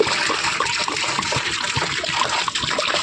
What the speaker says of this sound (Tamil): தண்ணி 1 கேன் ஊற்றுறோம்.